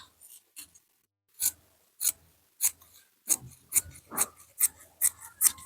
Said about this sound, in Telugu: మార్కింగ్ చేసిన విధంగా కటింగ్ అయితే కట్ చేసేసుకుందాం